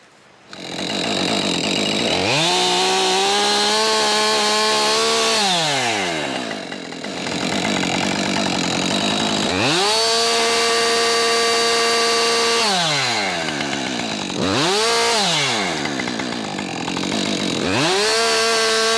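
A chainsaw cuts through wood outdoors on a hillside, loud and close, its engine revving up and easing off in repeated cycles across the whole stretch.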